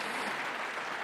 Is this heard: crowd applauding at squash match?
yes